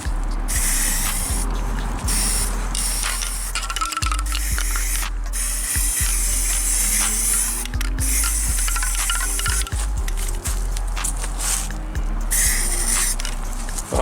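Steady hissing spray from an aerosol paint can being applied to a wooden speaker enclosure, a continuous loud spray broken by brief pauses and a few clicks of the nozzle.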